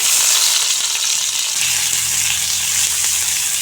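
Chopped onion frying in mustard oil in a wok, a bright continuous sizzle that stays loud and steady throughout, with a low stirring shuffle beneath it and no voices.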